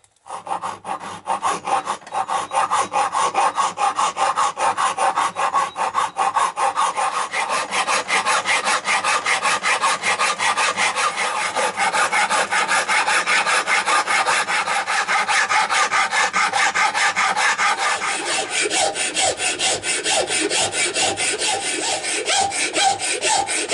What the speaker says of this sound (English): it might take quite a bit of filing though